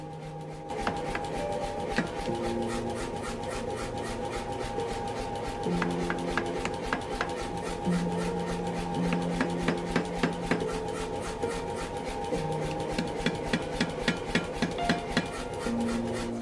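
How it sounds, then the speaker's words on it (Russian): Rapid metallic hammer blows as a blacksmith forges bloomery iron with a wet hammer dipped in water, striking in a steady rhythm, growing more distinct toward the end, over a sustained humming tonal background. "Чтобы очистить крицу от окалины, Михаил кует мокрым молотком, опуская его каждый раз в воду"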